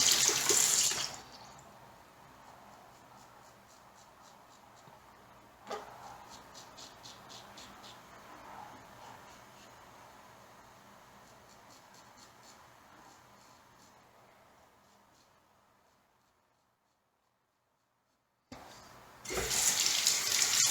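A bathroom tap runs steadily while a face is rinsed after a wet shave, a continuous close splash with a brief knock midway, fading to silence before the flow returns loudly at the end.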